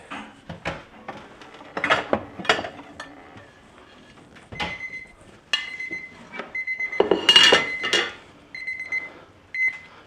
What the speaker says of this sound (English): And that was our timer.